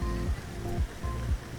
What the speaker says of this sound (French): Là aussi, c'est une piscine à vagues.